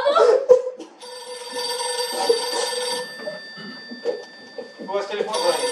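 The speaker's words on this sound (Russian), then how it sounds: "У вас телефон звонит." An old telephone bell rings in a room, a bright sustained ring that cuts off, with people talking and laughing around it.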